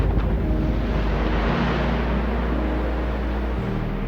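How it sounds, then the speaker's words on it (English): A quarry blast frees stone from the ground, heard as a sustained deep roaring rumble with broad low-end rush that holds steady for several seconds, no voices. "Blasting is by far the most efficient way to free stone from the ground"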